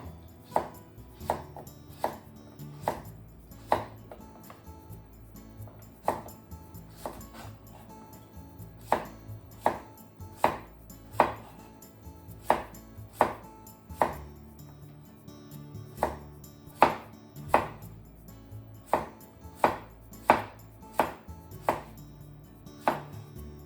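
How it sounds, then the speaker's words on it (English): A knife cuts cucumbers into 5 mm slices on a cutting board for Japanese pickles, with crisp, evenly spaced chops against the board that come one after another at a steady rhythm, close and clear with no talk. "Let's cut all these cucumbers. Cut both ends off. And just make 5mm slices."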